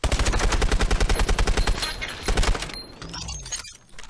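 Rapid automatic gunfire in the video game Call of Duty: Advanced Warfare, a loud burst of evenly spaced shots that breaks off, followed by a few more cracks and clattering debris.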